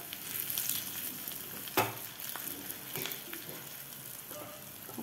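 Garlic, asafoetida, curry leaves and three dried red chillies crackle and sizzle in hot oil for a tempering, a steady close frying hiss with a sharp spitting burst early on and scattered pops after.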